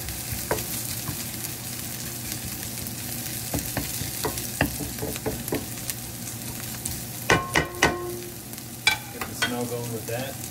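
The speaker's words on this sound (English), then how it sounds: "So then I'm going to go ahead and put in the ginger." Garlic, carrots and ginger are stir-fried in a pan for a sweet and sour fish dish, giving a low steady sizzle with scattered spatula scrapes and a cluster of louder clanks near the end.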